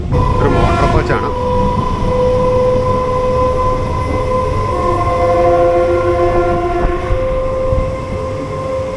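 A MEMU electric motor coach rumbles steadily along the Nilambur–Shoranur line on an early-morning run, loud and close, with a long sustained two-tone train horn sounding through most of the ride.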